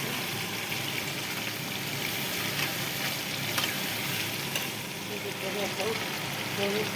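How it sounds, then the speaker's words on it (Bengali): Meat sizzles in a pan, a steady, close, crackling hiss with occasional stirring scrapes and faint sputters, while a voice speaks briefly beneath it. "আবার এদিকে মাংসটা ভাজা ভাজা হয়ে গেছে"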